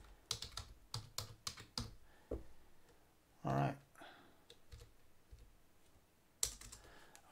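Quick bursts of computer keyboard typing with irregular clicks, close and fairly quiet, broken by a short spoken phrase midway and a final louder key tap.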